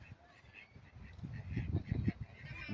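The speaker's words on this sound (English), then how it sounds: "It's actually a mallard, that's what they call them." Mallard ducks on a lake in a park in Middlesbrough give faint, scattered quacks and calls against a low outdoor rumble, growing slightly denser toward the end.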